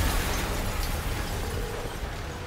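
A low rumbling explosion in the superhero game Marvel's Spider-Man, a broad steady roar that fades slowly over a couple of seconds, with no talk over it.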